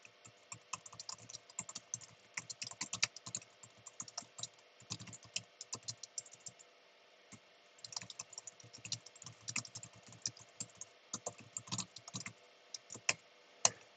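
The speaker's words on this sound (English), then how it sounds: "I'm just typing it." Computer keyboard typing a survey in a classroom setting, with irregular bursts of close, crisp key clicks that pause briefly and resume throughout.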